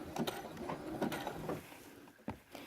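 A quilting sewing machine works a blanket stitch around a flag star appliqué, giving a soft run of mechanical clicks and needle thumps with brief pauses, close by and fairly quiet.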